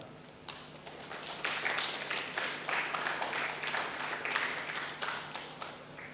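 An audience at a higher-education executive council event gives a panel a round of applause, a fairly faint but full wash of many hands clapping that swells and holds steady for several seconds.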